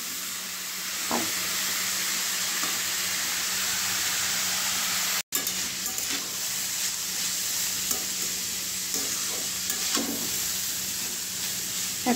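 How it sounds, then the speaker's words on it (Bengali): Raw papaya slices seasoned with salt and a little turmeric fry in a pan, giving a constant loud sizzle with occasional stirring scrapes and no talking. "একদম লাল লাল করে ভেজে নিতে হবে পেঁপে ভাজাটা"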